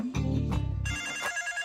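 A telephone rings in a home setting, a brief electronic ringtone with a repeating trill followed by a higher chiming tone, fairly faint and alone.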